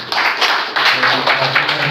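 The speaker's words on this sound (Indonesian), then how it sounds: "tepuk tangan dulu ini di sesi kedua ini" A short burst of clapping from a group of people at an agricultural fertilizer outreach session in East Luwu, Indonesia, dense and steady, with a voice briefly audible underneath.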